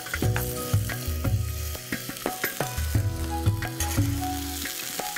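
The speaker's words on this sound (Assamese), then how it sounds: "এই কেৰাহীখনত এতিয়া আমি এই মেৰিনেট কৰি লোৱা চিকেন আৰু" Marinated chicken and potatoes sizzle loudly in a hot wok, with a busy crackle of frying and repeated stirring or scraping knocks under a tonal musical hum.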